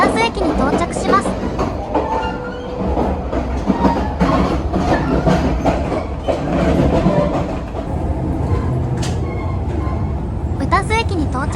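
The Shiokaze Anpanman limited express, a tilting train, rolls into Utazu Station with a loud, close rumble, rhythmic wheel clatter and rattling carriages, plus brief squeal-like tones over a continuous running roar.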